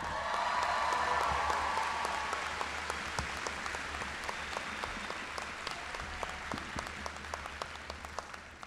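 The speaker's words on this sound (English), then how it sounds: "How about a loud round of applause for all of the graduating Latina students from CSU Fullerton?" A large crowd applauds graduating Latina students at a CSU Fullerton ceremony, with dense, steady clapping that slowly thins over several seconds, heard from within a big hall and without speech.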